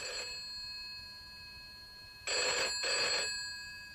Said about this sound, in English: My phone's working anyway, said Mrs. Goggins.